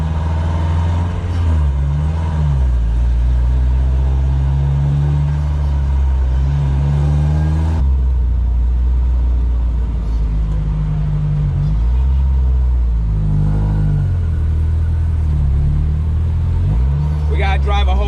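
A Jeep with a wrecked front end and no front brakes pulls off a highway shoulder, its engine a loud, steady low rumble with people talking over it throughout.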